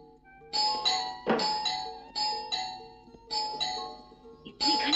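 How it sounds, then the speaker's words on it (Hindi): A bright chiming doorbell rings repeatedly in short bursts, several rings in quick succession, fairly loud and close. "इतनी घंटी कौन बजा रहा है?"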